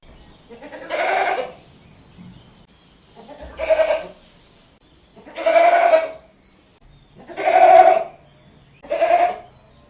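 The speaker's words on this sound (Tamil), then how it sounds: "ஆடு." A domestic goat bleats five times, each a loud, close, drawn-out cry separated by brief pauses.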